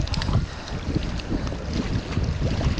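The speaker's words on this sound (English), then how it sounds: "It's hard work casting against this wind." Strong wind buffets the microphone while fishing from rocky shore points, a constant heavy low rumble with gusty surges that swells and dips throughout.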